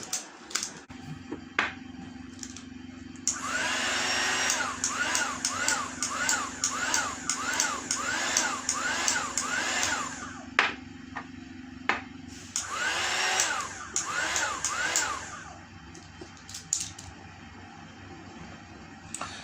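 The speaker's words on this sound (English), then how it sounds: "and then use the heat gun" A heat gun used while packing bottles of lavender rose face blemish oil; a steady electric whir with a low hum runs for several seconds amid rapid light clicks and tapping, then cuts out, leaving scattered handling noises.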